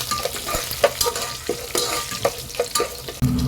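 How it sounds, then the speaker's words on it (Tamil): Green chili and spices fry in hot oil for Tamil lemon rice, with a soft steady sizzle and scraping stirs of a spoon in the pan, close up and without talk. "கருக்கிடாம பொறுமையா ஃப்ரை பண்ணணுங்க."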